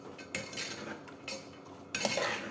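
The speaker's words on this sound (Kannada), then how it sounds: "ಎಲ್ಲ ಚೆನ್ನಾಗಿ ಮಿಕ್ಸ್ ಮಾಡ್ಕೊಳ್ಳೋಣ." A metal spoon stirs and mixes a simple moong curry in a pan, making a few brief scraping clinks and soft clatters close by and fairly quiet, without talking.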